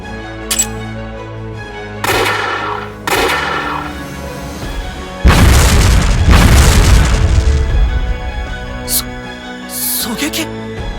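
Sniper gunfire in the Code Geass Lost Stories game: several sharp booming shots spaced apart, then a heavy sustained burst of blasts, with voices speaking between shots.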